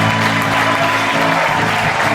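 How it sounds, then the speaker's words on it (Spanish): Applause from a church congregation fills the room, a steady dense wash of clapping that runs the whole time, loud and continuous with a faint murmur of voices underneath. "Vamos a dar un fuerte aplauso."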